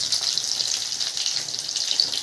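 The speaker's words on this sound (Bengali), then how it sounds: "এখানে এখন পকোড়া ভাজা হচ্ছে, এই যে গরম গরম পকোড়া।" Pakoras deep-frying in hot oil at a rainy-night dinner, a steady bright crackling sizzle heard up close and alone for a couple of seconds.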